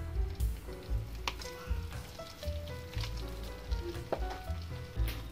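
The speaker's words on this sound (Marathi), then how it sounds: "आता आपण तुपामध्ये काजूची पूड भाजून घेणार आहोत।" Cashew powder roasting in a spoonful of ghee for dry fruit laddoos, giving a steady soft sizzle with light stirring scrapes, close and moderately quiet, with no talking.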